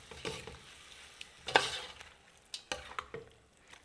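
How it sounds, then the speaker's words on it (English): Beef coated in browning being stirred in a hot pot for Trini pelau, with scraping spoon strokes and short bursts of sizzling at irregular intervals, close and fairly quiet. "And stir it well to coat it with the browning."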